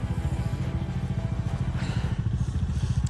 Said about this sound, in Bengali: আর বাইক তো স্টার্ট হয়েছে।